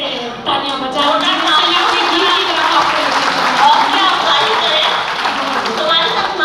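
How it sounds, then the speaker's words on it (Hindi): An audience at a Hindi poetry recital breaks into sustained, dense clapping that fills the whole stretch, loud and close with some voices mixed in. "एक बार जरा फिर से तालियां बजाओ"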